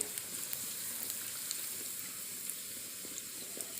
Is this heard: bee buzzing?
no